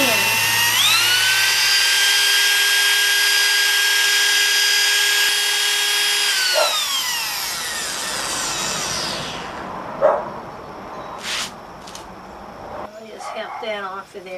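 A power drill mixing paint whirs loudly at steady speed, then winds down and stops; afterwards faint clatter and a voice briefly speaking.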